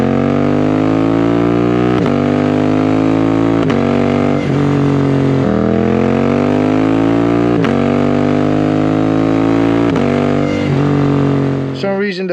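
Suzuki GSX-8S motorcycle engine while riding: a steady loud drone with pitch rising and falling through repeated gear changes, with wind noise over it.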